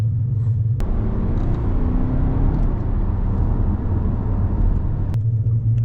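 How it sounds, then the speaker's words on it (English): A MINI accelerates hard on a race track with a little wheel spin. A loud, deep engine rumble drones steadily from inside the car, with brief clicks at the start and end. "A little bit of wheel spin."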